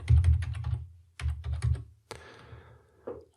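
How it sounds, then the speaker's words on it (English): Keys clatter on a computer keyboard as a domain name is typed into a hosting registration form, with quick bursts of close, crisp keystrokes separated by short pauses, ending in a firmer key press. "So here you need to provide your domain name."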